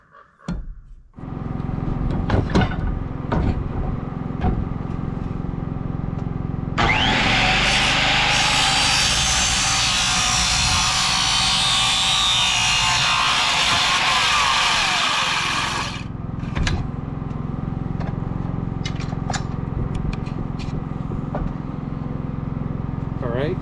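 A saw cuts a wooden rafter at a 34-degree angle, a loud continuous buzzing cut lasting about nine seconds in the middle, framed by quieter handling noises and occasional speech before and after.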